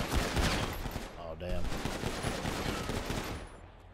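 Rapid gunfire from a GTA RP video game, a dense burst of automatic shots with a brief lull before more firing, loud and close.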